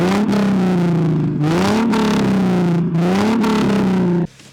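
A 1996 Ford Mustang V6 revs repeatedly, its engine note climbing and falling in several loud close pulls before cutting off abruptly, with no talking.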